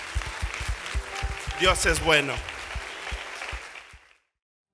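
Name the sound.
congregation applauding in church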